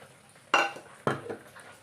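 A spoon clinks sharply against a vessel while ragi powder is stirred into first-press coconut milk for jackfruit halwa. Two close, distinct knocks about half a second apart, with quiet scraping between.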